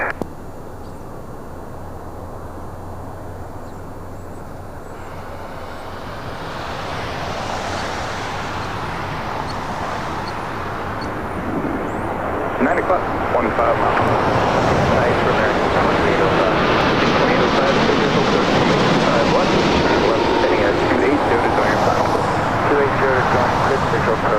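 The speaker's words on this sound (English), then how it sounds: "Flight 7 coming in from Paris, 787-9 Dreamliner with Air Tahiti Nui" Air Tahiti Nui Boeing 787-9 Dreamliner on approach from Paris, its broad jet roar building steadily from faint to loud and sustained as it nears, with a voice murmuring underneath.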